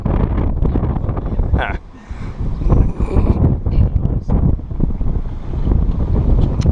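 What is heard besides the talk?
wind blowing on a breezy day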